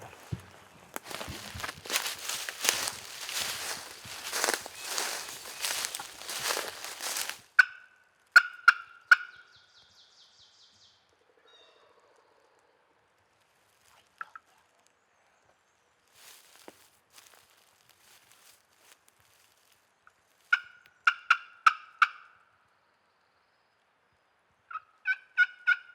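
Wild turkey gobbling on Virginia public land during a hunt, heard as a few sharp distant bursts outdoors after a stretch of louder rustling or wind noise, with quiet gaps between calls.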